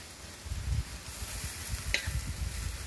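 Chicken stir-fry sizzles steadily on a Kamado Joe Junior grill, with soft stirring scrapes and a brief clink over the constant frying hiss.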